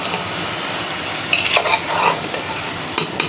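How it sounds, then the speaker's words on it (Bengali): A spoon scrapes and stirs through thick spiced chana dal in a pan over a steady sizzle, with a few metallic clinks. "এখন এটাকে আমি একটু সুন্দর করে নেড়ে চেড়ে দিব"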